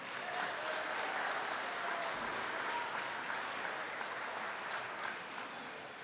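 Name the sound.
audience round of applause at wrestling event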